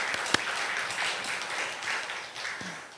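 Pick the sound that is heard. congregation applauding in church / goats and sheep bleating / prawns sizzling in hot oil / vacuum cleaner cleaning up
congregation applauding in church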